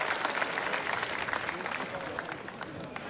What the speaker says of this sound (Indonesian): Kasih tepuk tangan sekali lagi dong